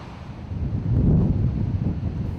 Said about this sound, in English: The moon is up full, and there's a light northeaster blowing across the ocean.